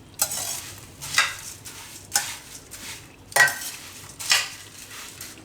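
Panipuri-flavoured puffed rice being mixed in a bowl, giving five evenly spaced crisp rustling swishes as the dry grains are tossed, close and fairly quiet with no talking.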